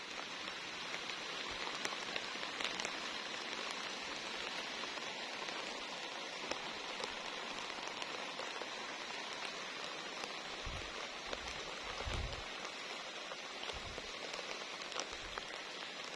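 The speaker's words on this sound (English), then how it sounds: "today's raining" Steady rain pours down on a vegetable garden that holds eggplants, a constant close hiss of drops patting leaves and soil, with a few low thumps near the end.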